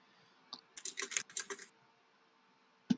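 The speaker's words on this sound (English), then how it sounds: "He's typing." Quiet computer keyboard typing comes in a short burst of rapid clustered clicks, followed by silence and a single later keystroke, faint and isolated with no talking.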